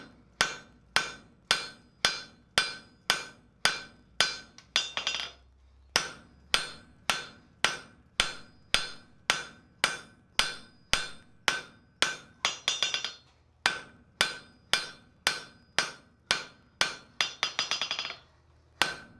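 Rapid, ringing hammer blows on hot steel at an anvil while forging tongs, struck in steady runs of ten or so with short pauses between, each strike bright and metallic.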